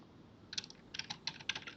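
Close, crisp typing on a computer keyboard, a short run of quick irregular keystrokes starting after a brief quiet moment.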